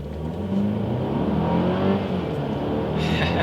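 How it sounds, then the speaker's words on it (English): A 2017 Mercedes-Benz E300 4MATIC accelerating hard, its engine note rising steadily in a continuous, loud, close drone heard from inside the car. "We'll see how quickly we can get the E300 4MATIC up to speed."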